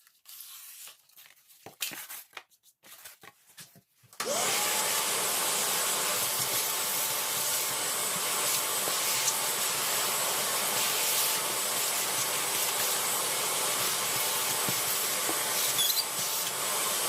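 A vacuum cleaner picks up foam cuttings from a jon boat floor: a few soft handling noises, then the motor starts abruptly and roars with a steady loud hiss that continues to the end.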